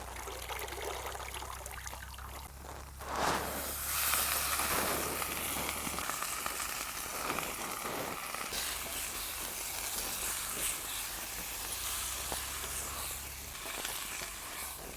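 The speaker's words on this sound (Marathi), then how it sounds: "आपण आता त्याच्यामध्ये भाजी टाकून घेऊ" Chopped drumstick leaves tumble into a pan of sautéed tomato and onion, setting off a steady frying hiss with soft stirring scrapes that carries on throughout.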